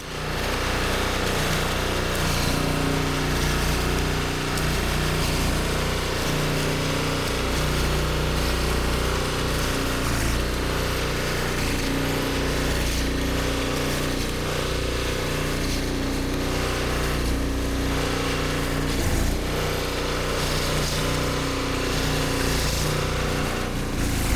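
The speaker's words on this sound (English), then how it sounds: "This snowblower doesn't seem very forward heavy, so it's just riding up on the snow and ice." A self-propelled snowblower chugs steadily through snow and ice on off-grid land in Alaska, its small engine a continuous loud drone with faint scraping and churning, no voices.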